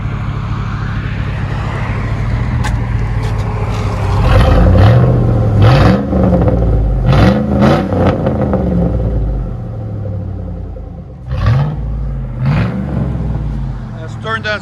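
Dual straight-piped exhaust with turn-downs on a 2006 Chevy Silverado 5.3L V8 revs up in several loud, rising blips with deep rumbling idle between them, close by and dominating the scene.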